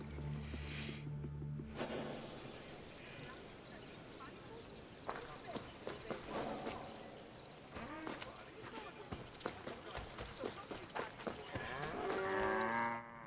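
Cattle low on an ancient Greek farm in the video game Discovery Tour, with moos rising toward the end over a busy rural backdrop of hoof clops and other livestock sounds.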